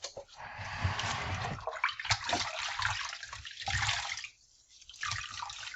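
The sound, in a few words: washing a plastic paper towel holder with water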